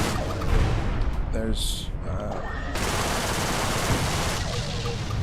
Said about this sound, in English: Outlaw missile turret. Missile turrets can be pretty dangerous.